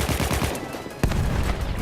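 Rapid automatic gunfire from a weapon in the video game Battlefield 1, a dense burst of repeated shots with a sharp report partway through, loud and close.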